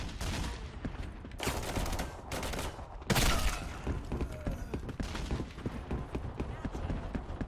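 Rapid gunfire in the online first-person shooter Black Squad, with dense repeated shots and bursts continuing throughout amid game sound effects.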